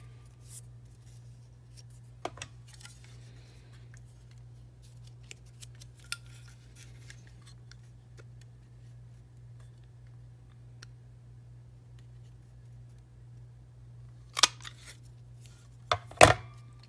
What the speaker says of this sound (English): I'm going to just trim off a little tail on that